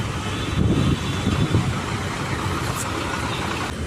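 Road traffic near a bus stand, with idling car engines giving a steady broadband rumble that runs continuously and fairly loud throughout, with no clear voices.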